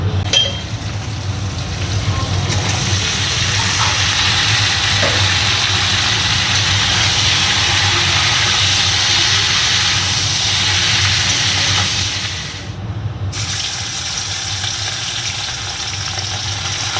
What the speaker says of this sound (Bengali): আগে ঝিঙে আলু পোস্তটা বসাই।